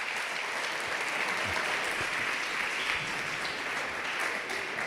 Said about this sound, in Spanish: ¿Cuánto le dan un aplauso al Señor fuerte,